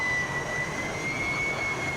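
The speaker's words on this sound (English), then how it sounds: "the Hornet shouldn't actually be sounding like this, but it's a sound mod, so we're hearing the power fluctuations." F/A-18 Hornet jet engine in a flight simulator with a sound mod, a steady roaring whine with a sharp high tone, continuous and loud, no voices over it.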